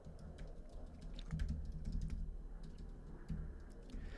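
Rapid typing on a computer keyboard, a steady stream of close, light key clicks with a few heavier taps, heard alone without talking.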